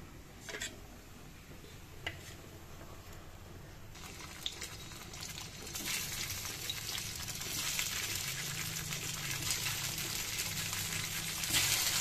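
Oil sizzles and crackles steadily in a pan as dumplings fry, a soft hissing fry that grows a little louder partway through, with occasional clicks and no voices.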